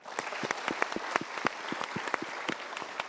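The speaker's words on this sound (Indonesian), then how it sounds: "Sekali lagi kita berikan tepuk tangan." A studio audience claps steadily, with sharp, distinct handclaps in a brisk, uneven rhythm at close-to-moderate distance, with no voices over it.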